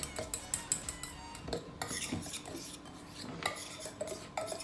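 A utensil scrapes and clinks against a container while a homemade melt-and-pour soap base is mixed, a close run of rhythmic knocks and scraping strokes with no voices.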